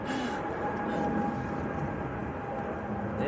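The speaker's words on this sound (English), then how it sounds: "A320 Neo." A distant Airbus A320neo lands at Manchester Airport in gusty wind, producing a steady broadband roar with a faint tonal whine and no clear breaks.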